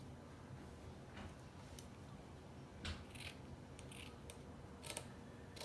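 Scissors snip through fabric to cut out a small traced pumpkin shape for a fall craft plaque, a few faint, sparse cuts in a quiet room.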